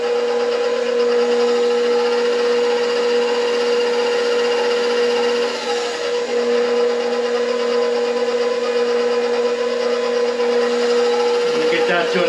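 An electric mixer whirs steadily as it beats pumpkin roll batter, a loud constant motorized drone that runs without a break, dipping briefly partway through.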